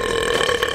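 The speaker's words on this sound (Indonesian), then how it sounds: "Oh tidak, aku akan bersendawa." A single loud, close burp after drinking cola, a short voiced rumble of under a second that stands alone without talk.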